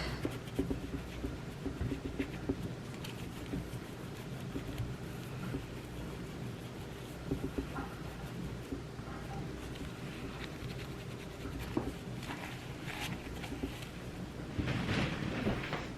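Cloth rubbing and swiping over the edges of a silver piece during home polishing, a steady close scratchy friction with soft irregular strokes throughout, a little busier near the end.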